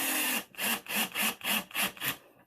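A drill fitted with a screwdriver bit drives a screw into wood in seven rhythmic bursts of whirring and grinding, close and loud, ending abruptly.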